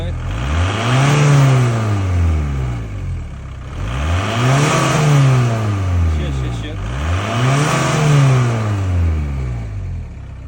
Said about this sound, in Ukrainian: зараз буде фінальна прогазовочка по класиці нашого жанру